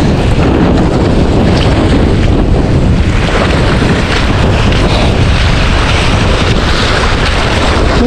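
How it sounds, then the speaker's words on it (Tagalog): Strong wind buffets a small fishing boat at sea, a loud, steady roar of gusting air and water noise with no break and no talk. "Mahangin."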